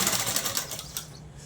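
A sewing machine stitches cloth in a tailoring shop, giving a quick rapid run of mechanical clatter that fades near the end, close and alone.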